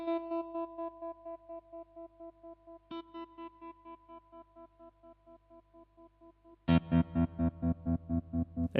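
Vahlbruch Twin Tremolo guitar effect pedal pulses a sustained guitar note in a steady, choppy on-off rhythm, then a fresh, louder strummed chord continues the same rapid pulsing.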